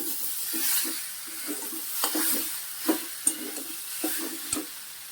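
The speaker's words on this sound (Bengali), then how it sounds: "সোয়াবিনগুলো দিয়ে দিচ্ছি, দিয়ে সঙ্গে কষিয়ে নিচ্ছি" Soybean chunks are stir-fried in a pan, giving a steady low sizzle under repeated rhythmic scraping strokes of a spatula, with a few sharp knocks against the pan.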